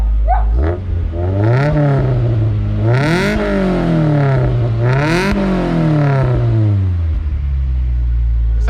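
Modified Honda Civic EG prepared for club racing, engine revving hard several times in rising and falling sweeps, loud and close, with a steady idle between the pulls and no talk.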